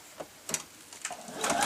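A sewing machine stitches fabric slippers in short bursts of rapid needle ticking, then runs in a longer stretch that builds toward the end, close and moderately quiet.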